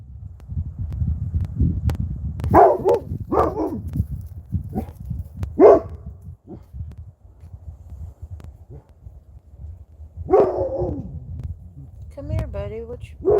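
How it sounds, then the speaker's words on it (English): A dog on a farm barks a few times amid steady low rumbling and scuffing like hooves or footsteps, with a person's voice speaking intermittently nearby. "What you barking"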